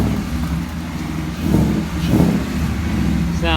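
A wrecked 2017 Mustang GT idles with a low, steady engine rumble, swelling in two short revs near the middle, heard up close outdoors with faint background noise.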